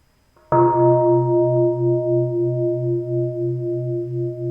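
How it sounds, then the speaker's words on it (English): A single meditation bell is struck once at the opening of a guided meditation, giving a clear bright strike followed by a long, sustained ringing tone that slowly wavers and fades, heard alone in a quiet room. "We'll begin with one sound, the bell."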